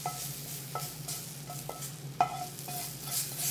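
A lentil and Swiss chard mixture being stirred into beans in a pot, with soft rhythmic scrapes and taps of a spoon against the pan over a low steady hum, no voices.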